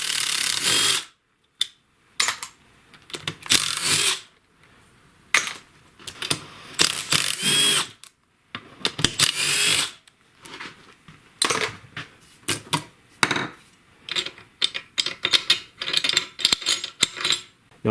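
Tools working on a Briggs & Stratton snowblower engine to take off the valve cover: bursts of ratcheting and metallic clicking, loud and close, broken by short silences and quickening toward the end.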